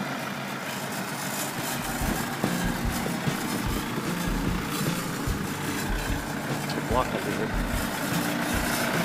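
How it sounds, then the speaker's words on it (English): A farm tractor on a Japanese farm drives up onto a truck bed, its engine a steady low rumble close by, with people talking over it. "Drive the tractor right up there."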